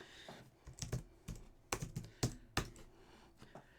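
Quick, irregular keystrokes on a computer keyboard tap out in short clusters, close-miked and crisp, with no voices heard.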